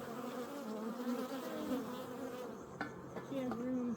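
Honey bees buzzing around an opened hive during an inspection, a steady close drone with wavering pitch, a few sharper bee passes, and occasional clicks of frames being handled.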